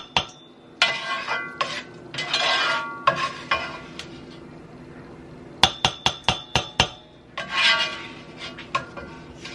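Sauteed peppers, onions and garlic scraped into a bowl, with sharp metallic utensil clinks and taps against the dish, a run of quick knocks midway and scraping rubs between, close and without talk.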